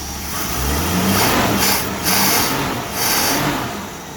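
A 1966 Mustang engine with a stuck-open choke and a faulty carburetor needle and seat runs steadily up close, its revs rising and falling in a few surges over a continuous rough drone.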